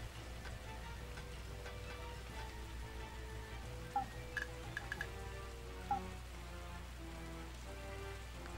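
Rain falls in the video game Taikou Risshiden V, a quiet, steady hiss of rainfall with a low hum underneath and a couple of faint ticks.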